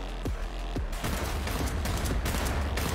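Rapid pistol gunfire from the video game Cyberpunk: several sharp, loud shots in quick succession over a continuous dense game soundscape, with no talking.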